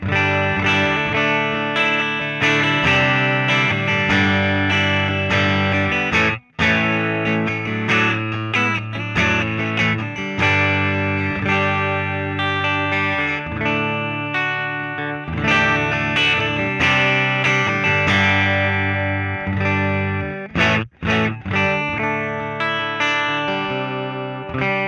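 An electric guitar plays through a JOYO Jam Buddy II on its 65 Black Vib setting, a Fender vibrato-style amp voice, ringing out bright, jangly chords and riffs continuously with only two brief breaks.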